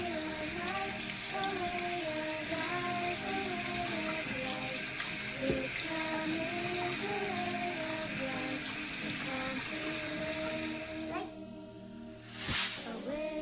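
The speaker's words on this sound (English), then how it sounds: "Wash your hands like this 3 times. First right hand and then left hand." Water running steadily from a tap as hands are washed for wudu, a continuous close splashing stream that cuts off near the end, with tones and voice-like sounds mixed over it.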